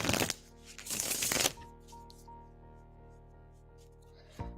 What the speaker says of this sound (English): All right, shuffling for N unit.